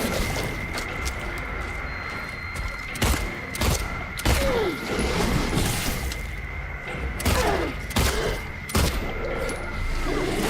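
Pistol shots in the survival horror game Silent Hill 2 ring out as sharp reports spaced a second or two apart over a steady droning, tense game ambience with occasional thuds.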